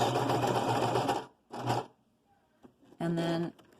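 A sewing machine back-stitching a fabric face mask with ear loops runs in three bursts: a long whirring run, a brief stitch, then another short run. It is close and loud, with faint handling noises in the gaps.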